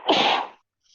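A single loud, close sneeze bursts out and fades within half a second, followed by near silence.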